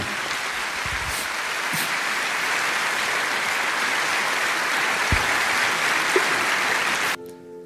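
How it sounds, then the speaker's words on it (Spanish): A church congregation applauds during a Spanish-language end-of-year worship service, giving loud sustained clapping for about seven seconds before it cuts off abruptly. "Fuerte, fuerte, fuerte, fuerte ese aplauso al Señor"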